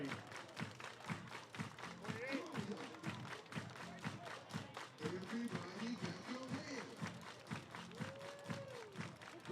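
A baseball crowd at a Portland Pickles versus Cowlitz Black Bears game claps in a fast, steady rhythm of many hands while an announcer talks over it.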